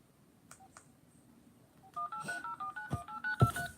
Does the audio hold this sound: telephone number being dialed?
yes